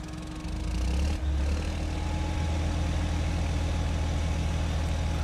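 A Jacto sugarcane harvester engine in Farming Simulator 22 starts and settles into a steady low idle hum, continuous and even throughout with no voices.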